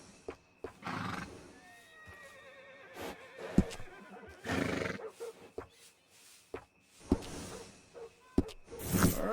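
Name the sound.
horse neighing, from video game Red Dead Redemption 2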